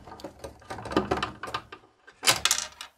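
Screw being backed out of a UPS battery casing with a hand screwdriver, a short run of close, dry clicking and scraping taps ending in a sharper rattle as it comes free, with no talking.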